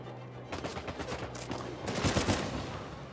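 Rapid gunfire in Uncharted 4, quick bursts of sharp shots starting after a short pause and swelling louder toward the end, close and dense with no voices over them.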